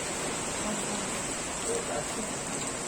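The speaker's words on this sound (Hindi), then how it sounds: "बहुत जोरों की बारिश हो रही है घाट पे" Heavy monsoon rain pours down on a foggy ghat road, a loud, constant hiss of dense drops with a few faint patters, and no voices over it.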